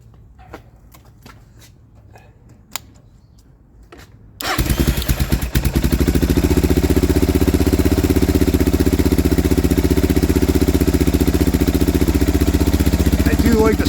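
A Suzuki DR650 motorcycle with a slip-on muffler fires up from cold with the choke out, after a few seconds of quiet handling noises, then settles into a loud, steady, throaty idle that continues to the end.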